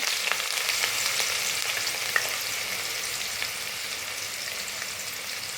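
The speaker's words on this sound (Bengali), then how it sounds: "এখন পেঁয়াজগুলোকে আমি হালকা করে একটু ভেজে নেব" Thinly sliced onions sizzle and fry steadily in a pan, a continuous close crackling hiss with an occasional soft pop and no talk.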